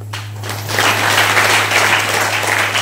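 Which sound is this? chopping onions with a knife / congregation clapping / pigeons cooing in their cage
congregation clapping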